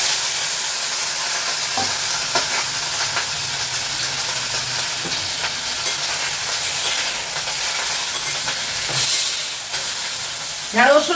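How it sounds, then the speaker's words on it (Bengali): Okra chorchori fries in a pan with a steady loud sizzle and hiss, broken by the scrape and clatter of occasional stirring. "এই যে ঢেঁড়স চচ্চড়ি চাপাচ্ছি"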